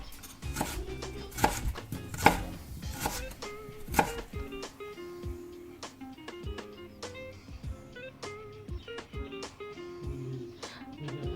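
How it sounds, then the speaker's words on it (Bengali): Knife chopping a tomato into small pieces on a board in a home kitchen, a steady run of quick close taps, with a few louder strikes early and no talk. "আর এখানে আমি টমেটোটাকে কুচি করে নেব ছোট ছোট করে।"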